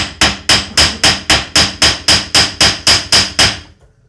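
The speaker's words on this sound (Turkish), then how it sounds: "Bir şey demir dövüyoruz. Bir de ses olacak." Iron being hammer-forged for a burner nozzle, struck from both sides in turn: about fourteen loud, ringing metallic blows at an even quick tempo, close up with no voices, then a short fade.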